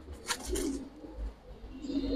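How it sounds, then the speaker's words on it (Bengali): A small pigeon at a loft of high-flyer pigeons gives soft, low cooing close by, a couple of murmured phrases against faint background noise. "দেখেন যে কত সুন্দর, ছোট্ট একটা কবুতর।"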